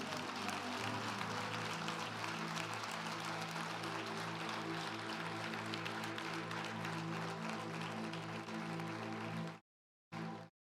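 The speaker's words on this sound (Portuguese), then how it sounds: "Você pode aplaudir a Jesus?" A church congregation applauds Jesus during a sermon on the rapture: dense, steady clapping over sustained tones for about nine and a half seconds, then cutting off abruptly, with a brief final burst.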